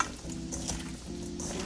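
Pepper steak ingredients mixed by hand in a bowl give a steady, close, wet squishing and stirring sound for under two seconds, with no talking.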